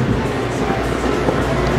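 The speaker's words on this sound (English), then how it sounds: "The train arrives right in the heart of downtown West Palm Beach" Train pulling into downtown West Palm Beach, a steady low rumble and rolling rail noise, moderately loud and continuous with no clear voices.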